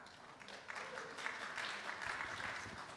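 Brief burst of audience applause breaking out partway through a public talk, a steady wash of clapping from a hall crowd, moderately loud and continuous for a few seconds.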